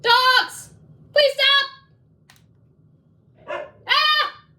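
Dogs bark in several sharp close bursts, two pairs of loud yaps separated by quiet gaps, heard indoors with no talking over them.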